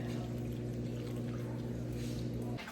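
Heavy whipping cream pours into a hot pan for a creamy crawfish sauce, giving a soft, steady liquid pour over a constant low stovetop hum that cuts off near the end.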